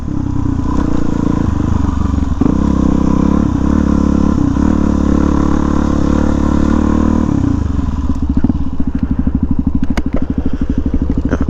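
Off-road motorcycle ridden standing up, its engine a loud, steady low drone close by with gear-change dips, then rapid chugging pulses near the end alongside scattered clatter.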